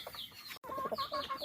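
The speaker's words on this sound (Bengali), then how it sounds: "অরিজিনাল টাইগার মুরগি, বয়স 4 মাস 15 দিন চলে।" A four-and-a-half-month-old tiger breed hen clucks at a market in Naogaon, a quick series of close, soft clucks.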